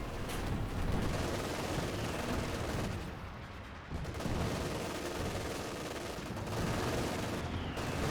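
Machine guns fire in a Company of Heroes 2 battle, dense rattling bursts under continuous, loud, rumbling combat noise.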